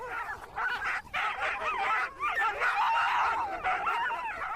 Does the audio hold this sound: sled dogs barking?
yes